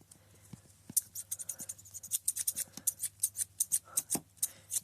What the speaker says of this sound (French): J'adore ça, moi, les putains de ciseaux.